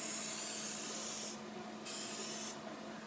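Cooking spray hisses from a can while banana bread is prepared, two or three short close bursts in a quiet kitchen.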